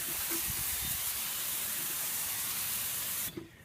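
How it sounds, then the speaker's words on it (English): Steady garden hose spray rinsing wheel brightener off a car wheel, a continuous close hiss of water that cuts off near the end. "I just take my hose and I spray it"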